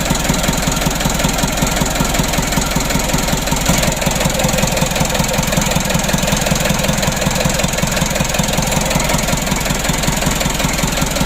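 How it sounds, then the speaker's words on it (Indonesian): A rebuilt 136 HDL engine runs steadily at idle, its close, loud, even knocking pulse mixed with a shaking vibration, with no voices. "Goyangnya agak lumayan mesinnya ya."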